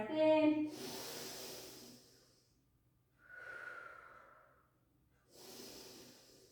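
Breathing during a Pilates calf stretch, with the weight in the front knee and the back heel pressed down: a close, audible inhale and breathy exhales in three separate waves, heard alone without talk.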